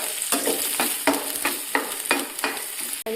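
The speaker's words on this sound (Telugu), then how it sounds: "ఇప్పుడు ఉల్లిపాయలు కొంచెం వేసుకుంటాను." Onions fry in hot oil in a pan, crackling steadily with a series of regular stirring scrapes that come about every half second, close and fairly loud, with no voices.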